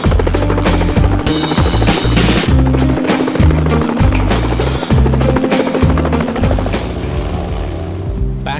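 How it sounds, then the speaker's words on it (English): A helicopter's rotor thumps in a fast, steady rhythm, loud and close, with a whining turbine hum layered above the beating blades. "Back at base, a helicopter is being got ready in case it's needed."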